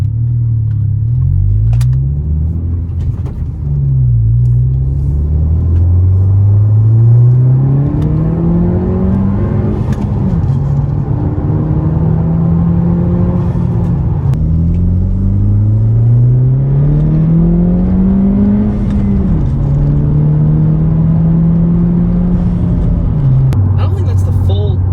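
A 2020 Honda Civic Si with a TSP Stage 1 tune accelerates hard from inside the cabin, the engine note rising through repeated gear pulls with brief dips at each shift, loud and continuous.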